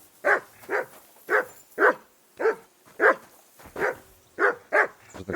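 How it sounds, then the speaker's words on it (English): A dog barks in the medieval video game Kingdom Come: Deliverance II, ten evenly spaced barks of moderate loudness repeating at a steady rhythm, with nothing else heard between them. "Henry, whistle at that mutt of yours to stop barking"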